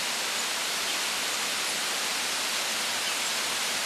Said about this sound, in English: You might already hear the waterfalls here or the river in the background.